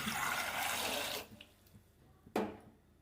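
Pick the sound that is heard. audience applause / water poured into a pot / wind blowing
water poured into a pot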